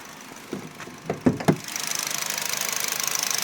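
A few knocks and thumps come first, then the engine of a 2022 Hyundai i30 with 20,000 km settles into a steady, moderately loud idle with a fast even ticking rhythm.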